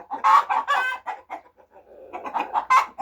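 Brooding hens cluck close by, a steady run of short, throaty clucks and murmurs that fade for a moment mid-way before rising again, with no voices over them.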